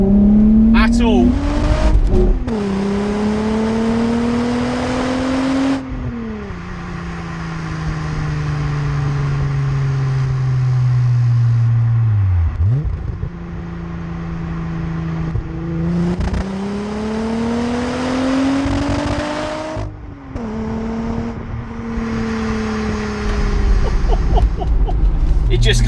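A 1995 VW Corrado VR6 Storm engine revs and accelerates repeatedly, rising tonal whine climbing through gears with dips between shifts, loud and close, with talk over parts of it.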